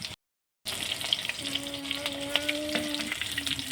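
Stuffed kakrol, a spiny gourd, fries in oil without batter. A busy, crackling sizzle starts after a short moment of silence and goes on steadily, with a faint tonal whine running beneath it.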